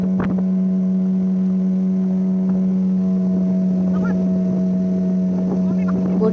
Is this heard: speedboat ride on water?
yes